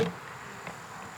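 Bees buzzing around a homestead hive, a faint continuous insect drone at close range, steady and quiet with no talk over it.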